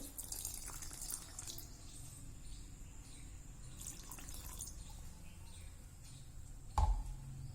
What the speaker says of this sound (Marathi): थोडं पाणी घालूया याच्यामध्ये